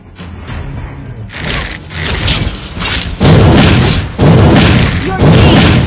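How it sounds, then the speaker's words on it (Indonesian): Mobile Legends turret destruction during a push: loud, close, booming explosions and heavy thuds come in surges, layered with game effects and a voice speaking over them. "Your team destroyed a turret."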